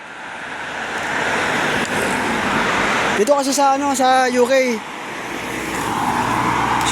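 Fast cars rush past on a UK road in a continuous loud roar of traffic, while someone speaks briefly over the noise midway.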